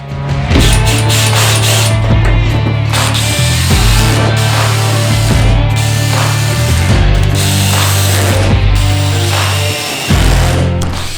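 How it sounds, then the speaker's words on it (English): A drill set to its lowest speed drives screws into a SnailArmor flat tailgate panel on a 2020 Toyota Tacoma, giving a loud, steady, close-up whirring with a low hum and brief dips between runs. "I'm just going to turn my drill down to like the lowest setting and then put it in."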